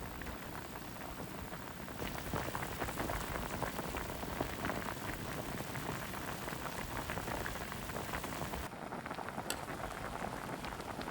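Vegetable stock with ginger and radish boiling in a pot, a dense, steady bubbling and crackling hiss that runs continuously at close range, briefly softening near the start and end, with no voices.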